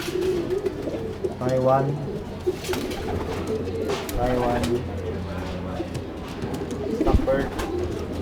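Racing pigeons in a loft in the Philippines, repeated close, low rolling coos over a background hum while someone talks throughout.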